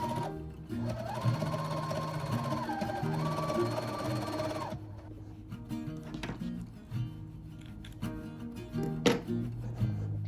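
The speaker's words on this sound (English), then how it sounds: "So I sewed the facing to the front pieces." Sewing machine stitching a facing onto the front pieces of a bathrobe, a steady whirring run for about five seconds, then quieter intermittent ticks and short bursts, close and clear with no talking.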